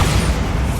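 Bombarda blasting spell going off in the Hogwarts Legacy video game, a dense, loud low rumbling boom that fills the whole brief moment without a distinct onset or tail.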